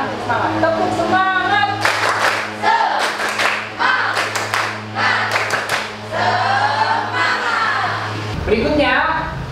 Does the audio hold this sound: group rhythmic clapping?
yes